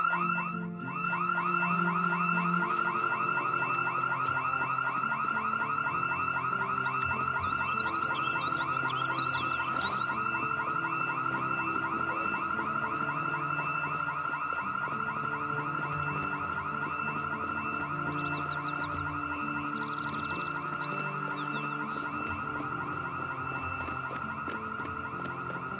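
A house alarm blaring in a survival zombie video game, a loud continuous electronic wail with pulsing repeated tones holding steady for the whole stretch, with no voices over it.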